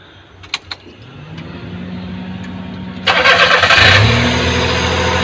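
A car engine starting after a bulb replacement: a couple of clicks, a rising starter whir, then the engine catches with a loud burst and settles into a steady close idle.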